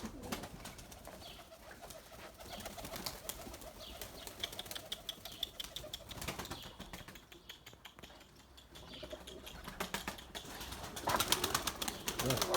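Tumbler pigeons, including a white male, beat their wings in flight, giving a steady, fairly close flutter of wingbeats over a soft outdoor background, with no talk.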